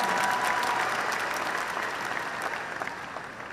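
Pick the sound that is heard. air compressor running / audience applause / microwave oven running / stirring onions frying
audience applause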